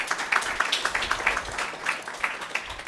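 An audience at a French-language contestant pitch event claps loudly, the applause uneven and pulsing, with distinct individual claps near the microphone.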